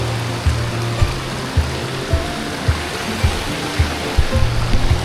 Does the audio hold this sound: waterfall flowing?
yes